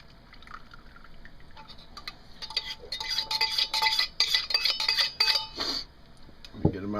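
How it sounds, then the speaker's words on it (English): Water drains off rehydrated potato chunks from a food-storage taste test, first a quiet trickle, then a few seconds of clinking and splashing against a metal pot or colander, ending in a soft knock. "Let's see if I can drain the water off here."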